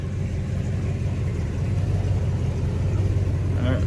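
A 1991 BMW E30 M3 engine idles in a low, steady rumble while the car reverses slowly without power steering, close and continuous, with no speech over it.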